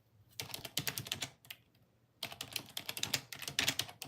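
Typing on a computer keyboard in two dense bursts of rapid, crisp key clicks separated by a short pause, close-up, with no speech over it.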